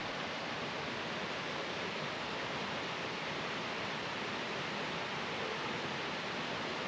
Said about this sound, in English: The third waterfall opens up wide, and just when you think that's the finale, the fourth one shows off.